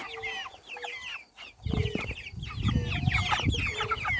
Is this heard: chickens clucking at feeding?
yes